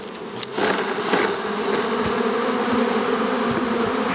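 Honey bees drone with a loud, steady buzz during an open hive inspection, filling the whole stretch close to the listener.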